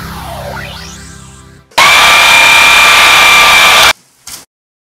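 A Swivel Sweeper runs with a loud, steady, harsh whine and roar for about two seconds, then cuts off abruptly. A short burst follows, and quieter rumbling comes before it.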